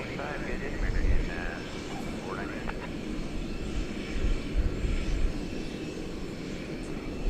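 A 26-year-old Airbus airliner at DFW Airport rumbles with a steady broadband engine roar at night, fairly close and continuous, with a few faint chirps over it and a voice talking intermittently.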